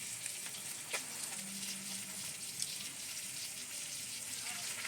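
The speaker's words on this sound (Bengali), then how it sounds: "আর আকাশের জন্য বাটা মাছ ভাজা চলছে এই যে কড়াইতে" Bata fish fry in a kadai with a faint, steady sizzle and hiss, quiet and somewhat distant, with a few soft clinks and no clear voices.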